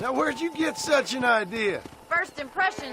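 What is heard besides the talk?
No everyday noise stands out behind the speech.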